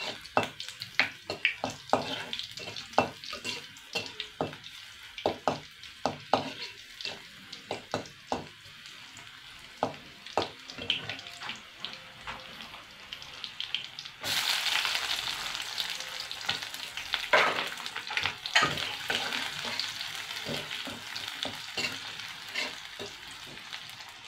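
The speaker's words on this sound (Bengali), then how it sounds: "আমি নেড়ে চেড়ে নিব নিচে পুড়ে না যাওয়ার জন্য।" Two or three garlic cloves and an onion fry in a pan in a village kitchen, browning with a soft sizzle while a spatula scrapes and clacks in repeated stirring strokes, and the frying turns louder and hissier midway.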